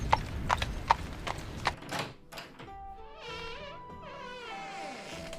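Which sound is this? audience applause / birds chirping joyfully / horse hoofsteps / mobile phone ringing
horse hoofsteps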